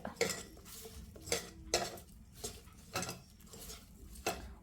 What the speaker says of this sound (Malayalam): ഈ ഇൻഗ്രീഡിയൻസ് എല്ലാം കൂടെ കൈ കൊണ്ട് നല്ലതുപോലെ ഇളക്കി യോജിപ്പിക്കുക